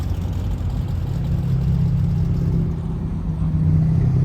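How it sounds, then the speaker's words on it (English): A 1966 Chevy Impala Super Sport idles loud and close at a Halloween car show, a steady low rumble with a throbbing beat that holds evenly throughout with no talk. "1966 Chevy Impala Super Sport with an awesome idle sound."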